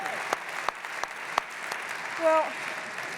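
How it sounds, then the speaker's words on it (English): Audience applause at a political interview with two senators, a soft, steady wash of clapping heard from a distance with a few sharper claps and a voice briefly speaking near the end. "let's give them both a round of applause for that vote"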